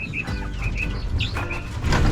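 Farm birds calling around a home place during early morning chores: a quick run of short, high chirps close by over a low rumbling background.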